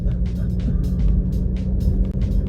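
A car in motion gives a loud, steady low rumble with road noise from inside the cabin, broken by repeated brief high clicks or ticks, and no voices.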